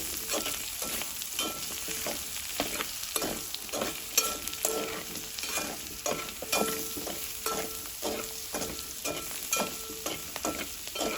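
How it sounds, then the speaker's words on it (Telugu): Potato fry being stirred in a pan after salt and chili powder go in, a rhythmic scraping of the spoon repeating over a continuous oil sizzle, close and steady with no talk. "ఉప్పు కారం వేసిన తర్వాత ఒకసారి అయితే కలుపుకోవాలి"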